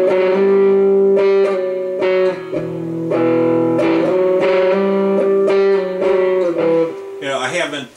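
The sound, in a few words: electric guitar through Tube Works Tube Driver distortion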